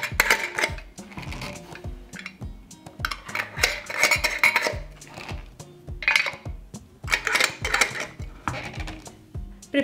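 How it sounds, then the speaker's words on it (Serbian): Glass canning jars set one by one into a cooking pot lined with a cloth, giving repeated clinks and knocks of glass against metal and each other, close and fairly loud in uneven bursts. "Pripremila sam šerpu i na dno stavljam krpu u kojoj ćemo kuvati tegle i unutra stavljam i tegle."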